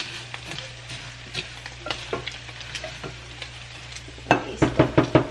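Rice fries in a pan under a soft sizzle while a utensil stirs it, making repeated scraping and tapping strokes that grow louder and quicker toward the end.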